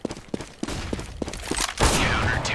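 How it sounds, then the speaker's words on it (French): Flashbang grenade thrown in Counter-Strike, with a soft series of clicks and thumps followed by a loud, bright burst near the end that lingers as a ringing hiss. "I'm throwing a flashbang."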